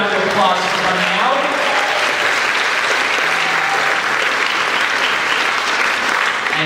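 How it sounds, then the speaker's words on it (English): An audience claps steadily and warmly throughout, dense applause filling the room at an evening performance event, with a few voices faintly mixed in. "Give yourselves a round of applause for coming out."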